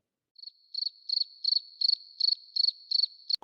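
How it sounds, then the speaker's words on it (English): Crickets chirp in steady repeated pulses, about eight short trilled bursts at a regular rhythm, clear and alone against silence, ending in a brief sharp click. "Crickets."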